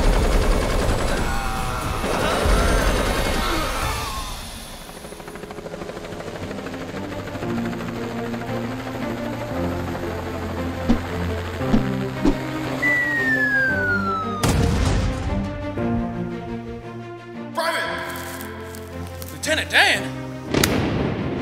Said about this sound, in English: I'm gonna need a Green Cleaner airstrike stat!